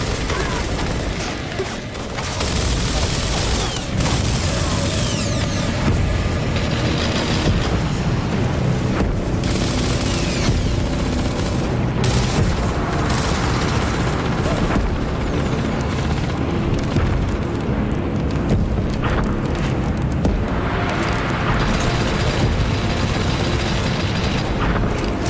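Gears of War video game combat with dense, continuous gunfire and heavy explosions, loud and unbroken throughout, with shouted voices mixed into the battle noise.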